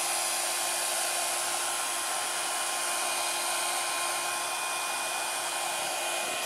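A Babyliss Big Hair rotating brush hair dryer blow drying hair, a steady loud airy whoosh with a constant motor whine, unbroken and alone.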